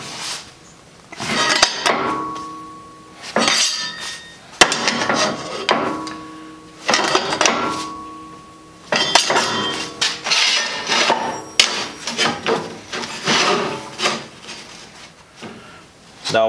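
A metal part for a hose reel on a plasma cutter cart is hammered and bent into shape, with loud, ringing metallic clangs in repeated bursts and short pauses between them, close by.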